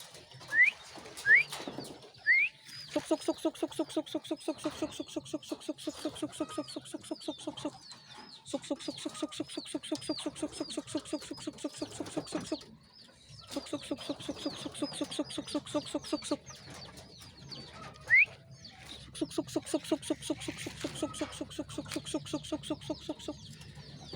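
Pigeons coo in steady rhythmic bursts as they enter their loft, several birds close by, with a few sharp calls at the start and brief pauses between runs.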